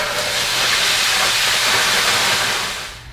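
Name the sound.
onions sizzling in a pan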